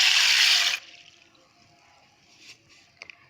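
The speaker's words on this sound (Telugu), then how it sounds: "ముందుగా ఒక బౌల్లో వాటర్ తీసుకొని పెసరపప్పు నానపోసుకుందాం" Water is poured into a bowl to soak moong dal. A loud, close rushing pour lasts under a second and stops abruptly, followed by quiet room tone and a few faint clinks.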